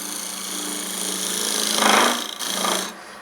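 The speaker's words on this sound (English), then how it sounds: "So we're going to make a cut, just go down the side of that marking to give yourself a little bit of clearance," A parting tool cuts into timber spinning on a wood lathe while turning a bowl base, giving a steady close scraping hiss that rises in the middle, dips briefly, then resumes before easing off.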